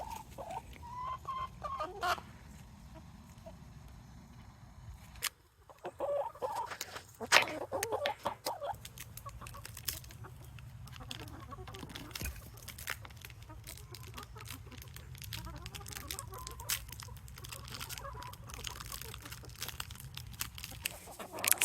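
Backyard hens clucking and pecking at a hanging mealworm, oregano and herb treat, with soft intermittent clucks and sharp pecking taps and rustles, close by and fairly quiet, with no talk.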